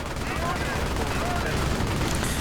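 Continuous gunfire and battle noise from the real-time strategy game Men of War, with troops shooting from upper balconies of a building; a dense, steady wash of distant shots and explosions fills the whole stretch.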